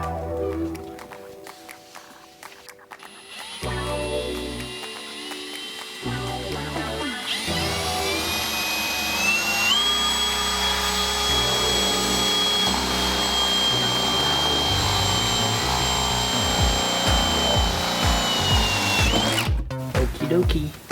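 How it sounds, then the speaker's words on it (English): Power tool cutting a hole through a van roof for a Maxx fan, a loud whining buzz that starts in short bursts, then runs continuously with shifting pitch before stopping abruptly near the end. "I'm gonna cut a hole in the roof"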